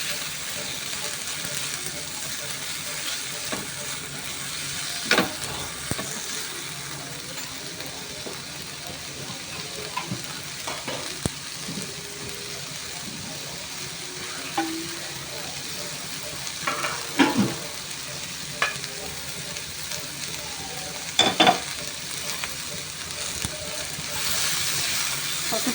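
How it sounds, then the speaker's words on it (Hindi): Onion and tomato fry in a pan for momo chutney, a continuous soft sizzle with occasional stirring clicks and scrapes throughout, fairly close. "थोड़ा सा और भून लेते हैं इसे।"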